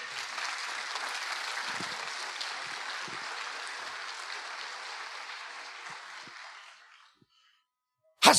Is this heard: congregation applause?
yes